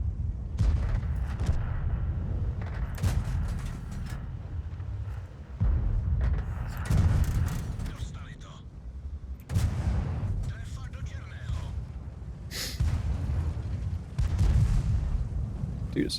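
Tank cannons fire in a World of Tanks battle, with a Skoda T 17 and an IS-3 Russian heavy tank in play. Several heavy booms land at intervals over a steady rumbling game backdrop, and someone talks over much of it.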